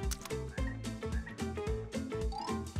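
Frogs croak in a rapid, rhythmic series of deep, resonant calls, close and clear, with no voices present.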